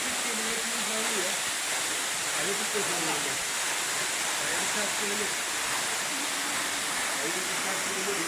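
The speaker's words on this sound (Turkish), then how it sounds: "Burası Hüsetiye Şelalesi." The Hüsetiye waterfall near Hüsetiye village in Gölcük roars as a steady, loud, broadband rush of falling water, with people talking faintly beneath it.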